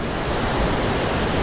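Fast-moving river water near Edenville Falls rushes in a loud, unbroken broadband roar, close and steady with no other sounds.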